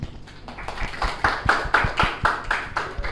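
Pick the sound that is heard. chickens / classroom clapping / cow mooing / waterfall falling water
classroom clapping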